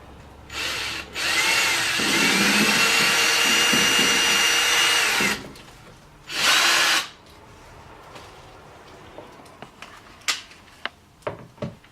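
A power drill whirs loudly for about four seconds while driving screws to fix a range hood in place over a stove, followed by a second short burst, then quiet clicks and small handling knocks.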